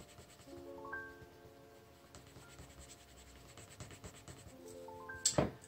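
A colored pencil shades softly on paper in a faint, steady scratching close by. Brief tonal chimes sound near the start and the end, and there is a short sharp rustle.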